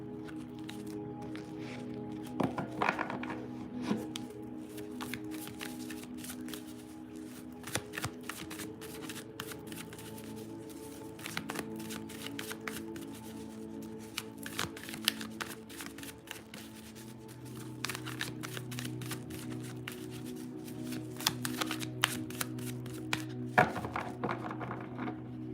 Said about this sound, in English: Let me rearrange the deck.